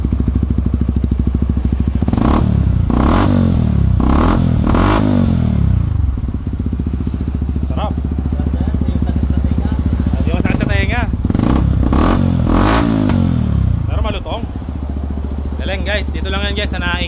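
A Yamaha R15 motorcycle fitted with a Kalkal exhaust pipe revs loudly nearby in several deep, bassy bursts with rising and falling pitch, while people talk over it.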